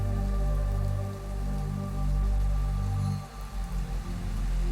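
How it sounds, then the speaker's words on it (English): Steady rain patters against a bedroom window during a stormy night, a continuous even wash of drops alongside a low droning hum. "The rain pattered loudly against Iris's bedroom window as flashes of lightning danced across the dark sky"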